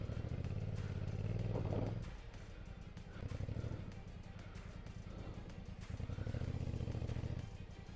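Royal Enfield Bear 650 motorcycle ridden off-road, its engine throbbing steadily with louder revving surges near the start and end, a close, continuous rumble with some clatter and no talk.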